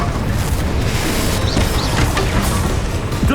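The Confringo fire spell explodes in the game Hogwarts Legacy, loud booming blasts and crashes layered together in a dense, continuous roar.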